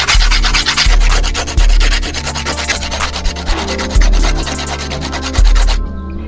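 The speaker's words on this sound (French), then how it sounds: "On remet un petit coup de ponçage après la découpe et ce sera parfait." Steady, loud rubbing of sandpaper over the freshly cut edges of a fingerboard spine ramp tube, continuous rasping strokes with a regular back-and-forth rhythm, close up and alone.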